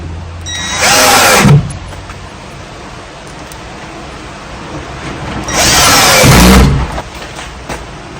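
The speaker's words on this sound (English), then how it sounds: "So next step you do is you run your screws in." A power drill drives screws into an electrical box in two loud bursts of about a second each, whining up and then stopping, separated by a quiet pause with faint handling noise.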